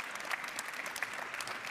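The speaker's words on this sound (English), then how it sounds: "Big applause for these three phenomenal researchers" Audience applause at an industry day event honouring three researchers after a panel presentation, steady dense clapping from a crowd throughout, moderately loud with no talk.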